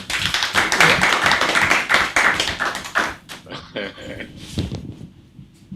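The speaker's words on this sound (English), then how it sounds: "thank you for clapping" Applause from an audience at a digital marketing and entrepreneurship workshop in Nigeria, dense clapping for about three seconds that thins into scattered claps and fades as a voice begins speaking.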